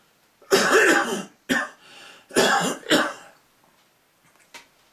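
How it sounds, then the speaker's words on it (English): A man coughs several times in short harsh bursts, close and loud, with brief pauses between, then a faint throat sound at the end. "I got a cough."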